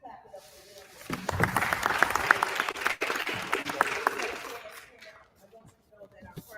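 Audience applause fills a hall after a speaker's request at a family gathering: dense clapping swells, holds steady for several seconds, then thins and fades out near the end.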